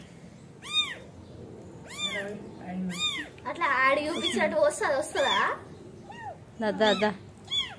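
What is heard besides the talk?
small cat meowing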